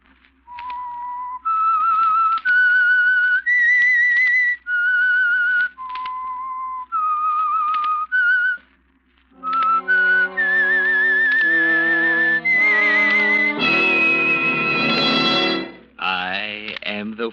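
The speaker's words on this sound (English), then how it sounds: "That whistle is your signal for the Signal Oil Program" Melodic whistling as a radio mystery program signal, a rising and falling tune of clear repeated notes with echo, followed by a swelling orchestral fanfare, loud and up close.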